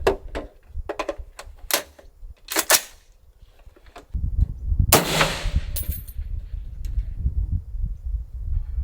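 An AR-10 rifle fires a single sharp shot at a long-range steel target, preceded by clicks and handling noises, followed by a rumbling outdoor background.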